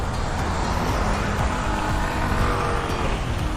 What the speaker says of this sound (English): there's a lot of cars here already